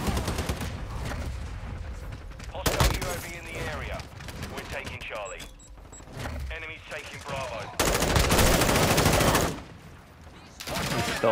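Rapid automatic gunfire in the video game Call of Duty: Modern Warfare II, with loud bursts and sustained rattling volleys, mixed with sharp single shots, under and between players talking.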